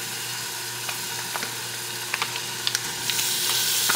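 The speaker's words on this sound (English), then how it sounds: "I brown the meat first" Meat browns in a pot for pasta with a steady close sizzle, scattered pops and crackles, and the frying noise swelling toward the end.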